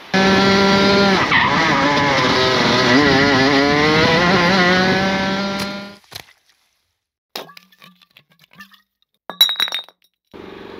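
A Rotax Max racing kart engine at Bayford Meadows drones loudly with rising and falling revs for about six seconds, then cuts out, leaving near silence and a few scattered clicks and clinks.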